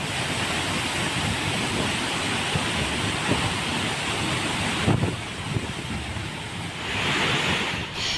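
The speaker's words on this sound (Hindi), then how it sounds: "अपार जल सैलाब की तरह झरने से नीचे गिर रहा है" Kakolat waterfall in Nawada in full flood, a continuous broad roar of torrential falling water, loud and steady throughout with a brief shift midway, no talking.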